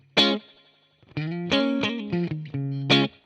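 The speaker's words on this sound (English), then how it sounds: "This is basically a digital emulation of a spring reverb." An electric guitar plays through a Peavey Classic 20 amp with a digital spring reverb effect, separate plucked notes and short chord stabs with ringing, reverberant tails, close and without talk.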